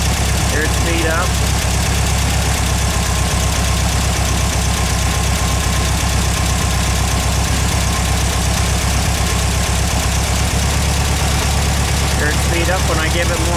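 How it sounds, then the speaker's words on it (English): A VW engine with a Solex 34 PICT-3 carburetor, running lean and misfiring, idles loudly and steadily with an uneven, knocking rhythm throughout, while a person talks over it. "It is slowing down, and I feel it kind of like it's going lean. It's misfiring."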